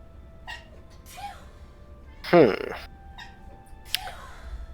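A single sharp sneeze bursts out mid-clip, loud and close, amid quiet background noise and a few soft vocal sounds.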